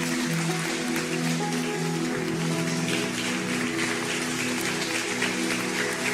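Dense, continuous crowd applause that holds steady throughout, with a sustained musical tone running underneath.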